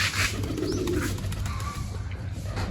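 Pigeons coo softly and repeatedly while being fed grain outdoors, their low burbling steady throughout with faint chirps and light background noise.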